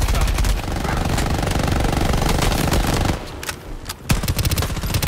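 Rapid automatic gunfire in the video game Shatterline hammers continuously, loud and close, then breaks briefly before more sharp shots resume.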